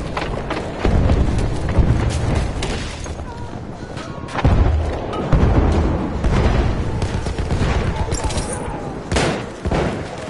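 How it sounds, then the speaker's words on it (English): Explosive blasts from a Battlefield video game grenade, loud booms among dense gunfire and rattling combat noise throughout, with voices shouting now and then in the mix. "Throw a grenade!"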